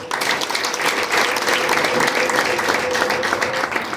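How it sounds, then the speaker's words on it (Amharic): A church congregation at an Easter sermon applauds steadily and ululates, a dense, loud wash of clapping with a sustained high trilling cry running through it from start to finish. "እልልታና ጭብጨባ ለጌታ"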